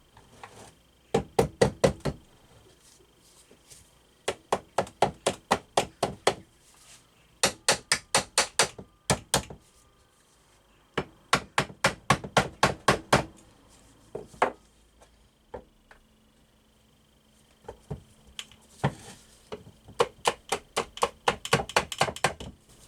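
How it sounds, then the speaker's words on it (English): Crankshaft bearings on a KTM 65 SX engine casing being tapped off with a hammer, bursts of rapid sharp metallic knocks in repeated clusters with short pauses between, close and loud. "we might be able to just tap them off."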